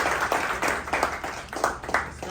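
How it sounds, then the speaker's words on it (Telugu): Audience applause at a Telangana State 10th anniversary celebration held by a Chicago community chapter, rhythmic bursts of clapping from a small crowd, fairly close and steady throughout. "So let's give a big round of applause."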